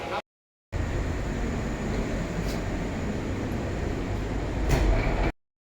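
Inside a moving JR line train in Osaka, Japan, a steady rolling rumble and hum fill the carriage, with a couple of faint clicks, briefly cut by a short gap near the start and ending abruptly.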